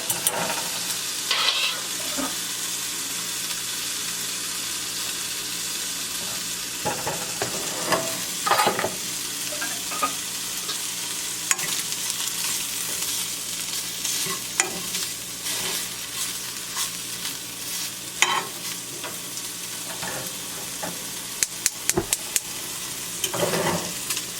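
Food sizzles steadily in a hot pan, with occasional scraping and stirring clatters over the constant frying hiss.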